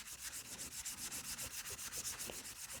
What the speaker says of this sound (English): Although it is sanding.